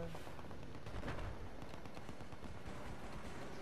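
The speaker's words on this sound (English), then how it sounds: "Oh, a lot of firing going on up here." Dense, continuous gunfire in the video game Battlefield, rapid overlapping shots and bursts like heavy firing on a hillside, steady and fairly distant throughout with no pauses.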